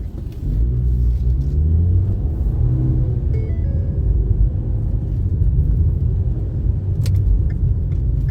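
Automatic petrol 2013 Ford EcoSport Titanium driving over bad city roads in Chennai, a steady low cabin rumble with tyre and suspension noise throughout and no talking.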